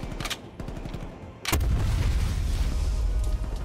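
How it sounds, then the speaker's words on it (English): A sudden loud explosion boom bursts in midway, followed by a sustained heavy rumble after a few earlier sharp shots, in the video game Call of Duty: Black Ops Cold War campaign. "Big ass explosion, dude."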